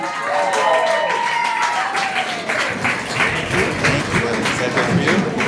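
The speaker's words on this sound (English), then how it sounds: "Everybody, please give a round of applause for Jerome" An audience gives a warm round of applause as a guest is called up to the stage, steady clapping that fills the room. A tonal whistle-like sweep rises above it early on.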